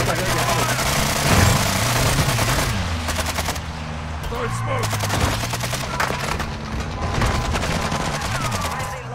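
Rapid automatic gunfire bursts in a Call of Duty Warzone match, loud and near, with overlapping shots and explosions while players talk over the action.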